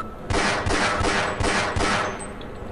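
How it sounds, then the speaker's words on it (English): Five loud 9mm pistol shots in Half-Life fire at a steady, quick pace, each a sharp crack with a short echoing tail, heard close and alone. "Why is a pistol so fucking powerful?"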